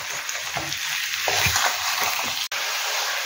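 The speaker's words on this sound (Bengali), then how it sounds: "এবার মিডিয়াম ফ্লেম করে এটাকে কষে নিতে হবে।" Spices sauté in a pan over a medium flame before yogurt goes in for a chicken curry, giving a steady close sizzle with soft stirring scrapes and a brief dropout near the end.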